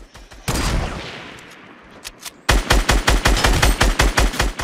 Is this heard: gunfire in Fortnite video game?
yes